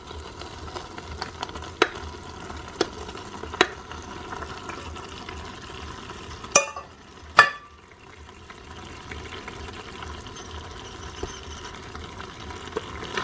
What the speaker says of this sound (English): I'm going to stir this to combine the pasta with the sauce